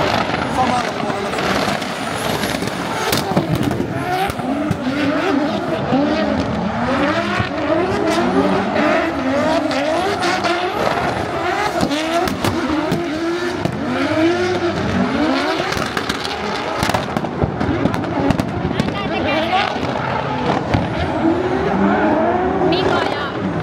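Drift cars at a Drift SM Pro round in Seinäjoki roar and scream continuously, with engines revving and tires squealing loudly throughout, while people talk nearby under the noise.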